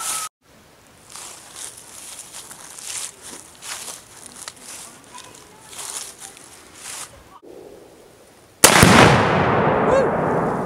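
Rifle shot setting off an exploding target outdoors, a sudden loud blast near the end that decays into a long rumbling tail, after quieter handling noises and soft voices.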